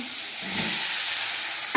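Dried chilli, bay leaf and whole cumin hit hot oil in a kadai, giving a steady, close sizzling hiss throughout with a brief louder crackle burst right at the end.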